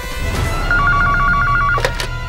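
A telephone rings with a fast trilling electronic bell that lasts about a second, loud over a steady background hum, followed by a couple of soft knocks.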